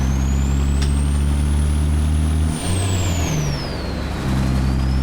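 An old Dodge truck in American Truck Simulator pulls hard, its deep diesel engine droning loud and steady while a high turbo whine rises and falls over the rumble.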